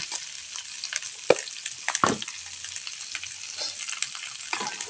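Meat, mouse deer, frying in a pan, a crackling sizzle close by with a few sharp scraping strokes of stirring and small pops, fairly quiet and unbroken by talk.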